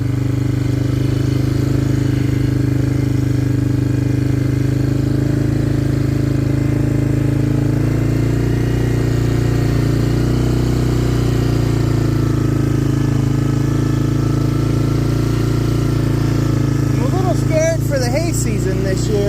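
A four-wheeler ATV engine idles out on pasture, a loud, steady low rumble that holds throughout with close, constant droning and a brief voice near the end.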